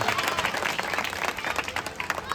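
An audience at a Ramleela performance claps dense and continuous applause across the whole short stretch, a crowd sound with a fairly even level and no clear break.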